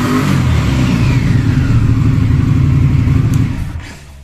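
A 2023 Indian Scout Bobber 1200 motorcycle engine runs loud and close with a deep, steady throb, then fades and drops away toward the end. No voices are heard over it.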